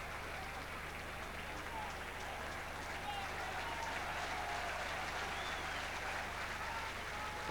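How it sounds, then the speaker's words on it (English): Crowd applause for Liam Brady rolls around a stadium during a 1987 First Division football match between West Ham United and Norwich City, a steady distant wash of clapping and crowd noise under a constant broadcast hum. "But the applause still for Liam Brady"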